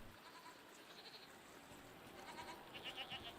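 A goat in the video game Season: A Letter to the Future gives a faint, short bleat near the end over a quiet background hush.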